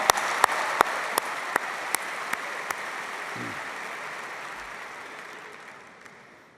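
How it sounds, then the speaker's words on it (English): Audience applause at the AIPAC 2017 conference: a thick, steady wash of clapping with a few sharp, close claps standing out, gradually dying away toward the end. "Let's give yourselves a big round of applause."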